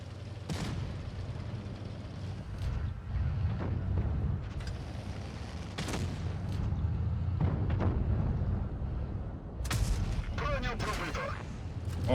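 Several heavy tank cannon blasts from World of Tanks Blitz, featuring the Astron Rex tier 8 tank, boom at irregular intervals over a constant engine rumble, some close and sharp, others more distant.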